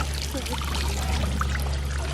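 Water trickles and pours steadily into a park pool clogged with leaves among banyan trees on a hot day, a continuous close splashing stream under a low background hum.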